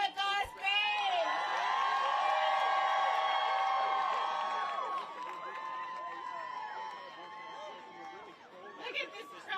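A large crowd at an abortion-rights rally outside the Supreme Court cheers and whoops loudly and steadily, with overlapping shouts and chatter that ease slightly toward the end.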